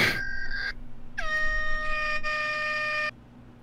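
A loud air horn blares in one sustained, slightly wavering blast lasting about two seconds, after a shorter burst of electronic tone at the start.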